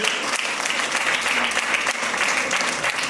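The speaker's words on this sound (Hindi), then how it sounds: "प्रभु के लिए जोरदार ताली बजाइए" Loud, vigorous clapping from a congregation during a church service, a thick continuous roar of many hands that stays strong and steady from start to finish.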